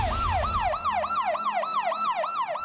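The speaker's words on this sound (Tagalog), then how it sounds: "Imbes na mapabilis ang biyahe, mas lalong natagalan ang ambulansyang ito nang dumaan sa EDSA bus lane kanina." Ambulance siren wailing in a fast, repeating yelp cycle on EDSA in Manila traffic, loud and near, with low road rumble underneath and no talk.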